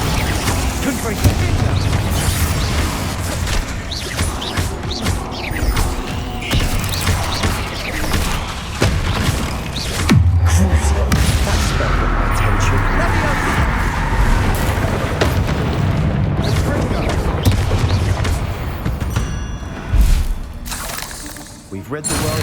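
Explosive blasts from the Confringo curse in the Hogwarts Legacy video game, repeated loud booms and crackling bursts running throughout amid a dense, busy mix of combat sounds and a voice.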